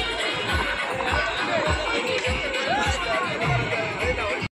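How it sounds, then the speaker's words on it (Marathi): Festival crowd on a beach during Narali Purnima, a dense steady babble of many voices and shouts close by, with a continuous rumbling wash of noise and no single voice standing out. "आजच्या या नारळी पौर्णिमेच्या निमित्ताने गर्दी खूप आज."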